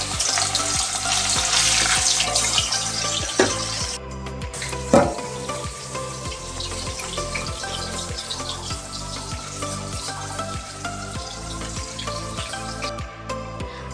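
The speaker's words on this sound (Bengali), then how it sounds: "এবার মাছগুলো ভেজে নিচ্ছি।" Katla fish pieces fry in mustard oil with a crackling sizzle, joined by a couple of sharp clinks. A steady rhythmic beat, probably music, runs underneath throughout.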